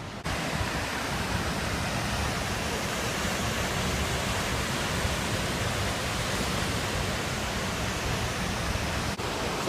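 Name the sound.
Wahclella Falls waterfall, Columbia River Gorge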